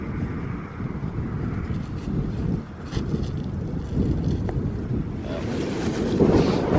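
Chilly wind gusting outdoors on a house portico, a steady loud rush of buffeting noise across the mic that swells and eases throughout, with no voices.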